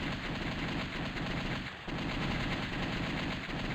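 Sustained rapid gunfire aimed at a giant spider enemy in The House of the Dead on PC, a dense, even rattle with one brief dip midway, loud and without voices.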